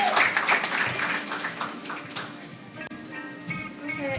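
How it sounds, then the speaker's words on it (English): An audience at a recognition ceremony for honour-roll students applauds, a burst of clapping that begins full and close and then gradually thins and fades. "Let's give ourselves a round of applause for making this event a success."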